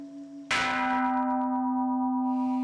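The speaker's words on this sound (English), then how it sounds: "the 5 a.m. bell" A temple bell at a Japanese Buddhist monastery in Koyasan, rung at 5 a.m., gives one loud close strike that blooms into a long sustained metallic ring, after a faint tone already hanging beforehand.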